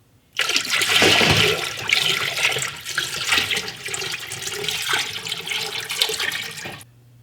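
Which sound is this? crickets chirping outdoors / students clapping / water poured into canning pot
water poured into canning pot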